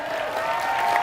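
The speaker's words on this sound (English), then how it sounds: "We actually want to applaud all of you." Brief burst of audience applause at a Minecraft convention, a dense steady wash of clapping from a large crowd.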